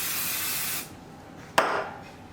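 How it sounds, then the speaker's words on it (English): Basting spray hisses onto the back of embroidery hoop fabric in a steady, close aerosol burst, which stops abruptly, followed by a short sharp tap and a quieter second hiss. "I'm also going to spray some more basting spray on the back"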